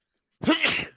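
A single sneeze from an adult woman, close and fairly loud, with a short sharp onset and a breathy tail lasting under a second, alone with no talk.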